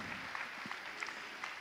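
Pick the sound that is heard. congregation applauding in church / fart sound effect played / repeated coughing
congregation applauding in church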